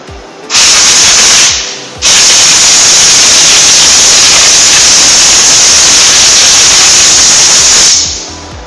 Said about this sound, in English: Then blow off the outer gun.